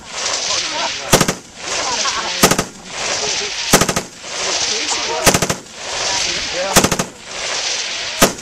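M240 machine gun at a 3-gun match, fired in loud, sharp, rapid bursts repeating every second or so, with outdoor crowd noise and chatter between the bursts.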